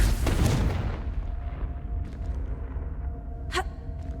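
A loud fiery blast from the Confringo fire spell in Hogwarts Legacy erupts at the start, then rumbles and fades into a low steady hum, with a brief sharp crackle near the end.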